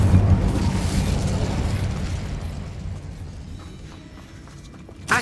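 The Incendio fire spell cast in Hogwarts Legacy, bursting loudly at first, then a roaring, crackling blaze that slowly fades, ending with a short sharp pop.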